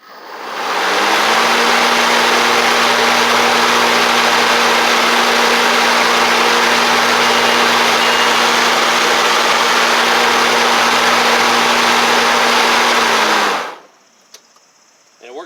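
A Ryobi RM480e electric riding mower runs with its blades spinning, giving a loud, steady drone with a strong motor hum for about thirteen seconds before cutting off abruptly and going quiet.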